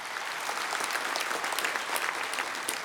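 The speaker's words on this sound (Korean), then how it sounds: "박수 좀 치세요." A church congregation at a national pastors and elders prayer meeting breaks into applause, a dense, steady patter of many hands clapping that fills the room throughout.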